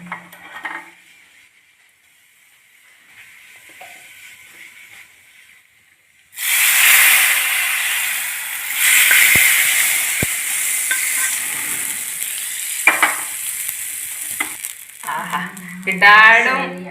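A tempering with ground fenugreek poured into mango pulissery: a quiet stretch, then a sudden loud, close hissing sizzle that keeps going with a few knocks, and faint talk near the end.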